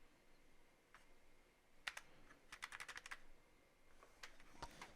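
Keys on a Wooting keyboard clatter in short bursts: a single tap, a quick pair, then a rapid run of crisp clicks and a few more strokes, close and fairly quiet over a faint room hiss.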